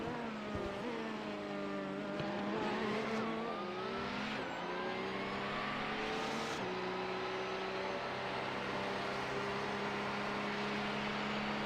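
Race cars in the iRacing video game drone and rev on track, engine tones rising and falling through gear shifts and a sudden change midway, steady and moderately loud with no talking.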